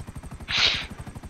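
Helicopter in Grand Theft Auto V: a steady, rapid rotor chop thumps throughout, with a loud hissing burst swelling in the middle and fading away.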